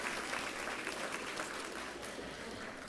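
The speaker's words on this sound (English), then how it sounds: "let's give our students another round of applause" Steady, even applause from the audience honoring students at an elementary school's 10th anniversary event, a continuous wash of clapping heard from some distance.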